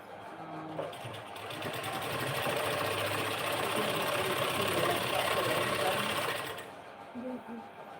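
Sewing machine stitching lace onto a garment sleeve, running steadily for about six seconds with a dense, continuous whir that starts and stops cleanly, with quiet handling noises before and after.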